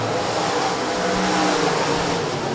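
USRA stock cars racing at Rapid Speedway, a dirt track, several engines roaring together in a loud, continuous, blended drone at full speed throughout.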